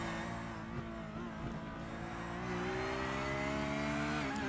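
GT3 race car in a racing game, lapping the old Indianapolis Motor Speedway infield, its engine droning loud and steady with the pitch climbing late as it accelerates, alone without talk.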